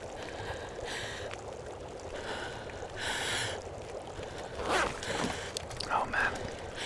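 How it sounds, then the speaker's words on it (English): The player character in The Long Dark, a survival video game set in Ash Canyon, breathes heavily and labouredly. Repeated rasping gasps and snorts sound up close, alone over steady background noise. "We'll get to listen to this breathing quite a bit."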